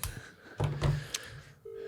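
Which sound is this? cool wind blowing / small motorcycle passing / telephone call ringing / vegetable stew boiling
telephone call ringing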